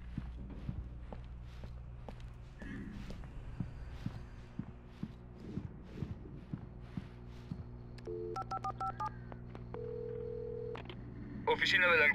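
Telephone keypad tones as a number is dialed on a phone inside a gas station in the video game Alan Wake, preceded by footsteps and followed by short electronic beeps and a steady tone, fairly quiet and alone.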